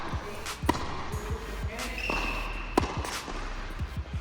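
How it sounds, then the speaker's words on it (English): A tennis racquet strung with Solinco Mach 10 strikes the ball in a few sharp, crisp pops, spaced seconds apart, over a quiet outdoor court background. "When you absolutely pure the ball with a huge swing, you get that Mach 10 sound"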